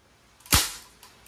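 A single sharp crack from a CO2-powered blowback airgun rifle, one close loud shot with a short decaying tail and a faint click afterward, no voices.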